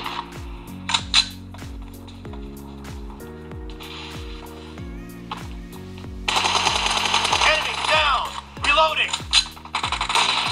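Rapid gunfire in the mobile battle-royale game BGMI, with repeated sharp shots in quick bursts and single cracks, loud and close over a steady low game tone, with busier in-game noise toward the end.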